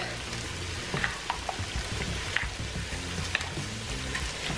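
A spoon works through a cheese filling for stuffed shells with a continuous close-up wet squelching and scraping, dotted with small clicks against the bowl.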